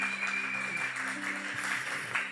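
Applause from a church congregation, a dense steady wash of clapping that continues throughout, with faint sustained music tones beneath.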